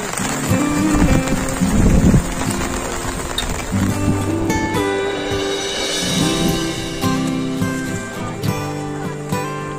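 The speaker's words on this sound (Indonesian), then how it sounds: "Gimana masih hujan? Hujan, tetap hujan menemani." Steady rain falls during a mountain hike on Gunung Prau, a dense continuous hiss of drops with wind buffeting the microphone and faint footsteps and rustling throughout.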